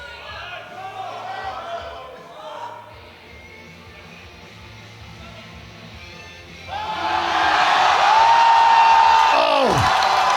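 A powerlifting crowd at the IPF World Classic Championships in Malta swells into loud cheering and whooping after a deadlift, rising abruptly from a quieter murmur and holding strong, with a commentator's voice heard early.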